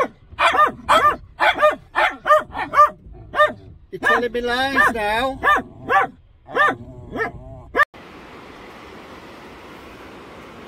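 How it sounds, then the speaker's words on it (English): A dog barks repeatedly from close by inside a parked car on a wild car-camping trip, a quick run of sharp barks breaking into a whining, growly stretch, with a person speaking over it before quiet ambient noise takes over. "You said you wouldn't bark when we stopped."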